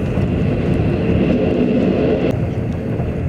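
A modern sleeper train traveling from Xining to Xian in China runs into a tunnel, a loud steady rumbling roar whose tone shifts abruptly partway through.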